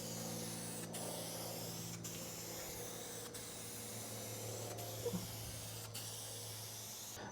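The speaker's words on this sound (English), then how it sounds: "right after we spray our third coat" A steady hiss of a spray gun laying down primer over a car dent repair in a garage, continuous and close, with faint periodic clicks and a low background hum.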